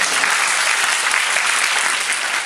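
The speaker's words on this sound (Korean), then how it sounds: "아가사를 위해 운동을 안 하시는 최정원 배우님께 박수 한번 부탁드리겠습니다." A theatre audience applauds an actress, dense steady clapping filling the room at an even level from start to finish with no voices over it.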